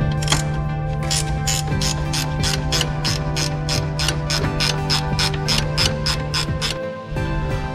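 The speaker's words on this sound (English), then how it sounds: "The next step is to remove one 10mm here, the next 10mm" Steady rapid clicking of a ratchet wrench turning out 10mm bolts on the intercooler panel of a Mk4 Ford Focus ST, close and loud with even repeated strokes and a short pause near the end.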